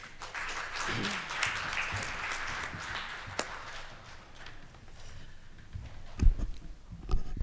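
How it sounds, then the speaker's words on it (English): Moderate audience applause at a healthcare innovation summit session, strongest at the start and gradually thinning into scattered claps, with some shuffling and thumps toward the end. "Please give them a big round of applause."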